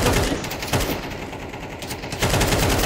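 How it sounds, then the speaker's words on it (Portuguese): Counter-Strike 2 gunfire, a dense run of rapid shots and clattering bursts filling the whole moment, loud and continuous with slight surges in the last half-second. "Tá atirando."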